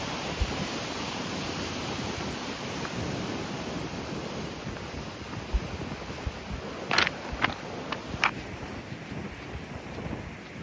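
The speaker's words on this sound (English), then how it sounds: "I'm going to miss the sound of the sea." Sea waves on the Cornish or Devon coast wash in a steady broadband hiss mixed with wind noise, with a few sharp splashes or knocks near the end.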